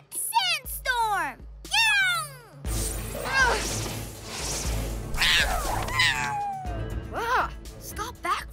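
A cartoon cat character in the PJ Masks kids' show gives a few sweeping, exaggerated meows voiced by an actor, then lively voices and scuffling action sounds follow.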